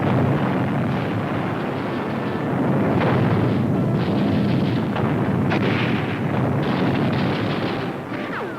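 WWII Battle of Luzon artillery shell fire on volcanic ground rolls as a continuous dense rumble of distant booms and blasts, loud and unbroken throughout with no talking.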